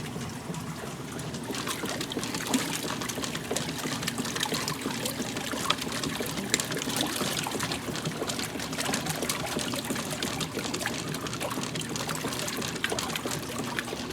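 A washing machine on its rinse cycle keeps water trickling and pouring steadily, a constant close liquid wash with small splashy flickers throughout and no talking.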